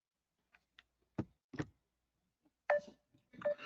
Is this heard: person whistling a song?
no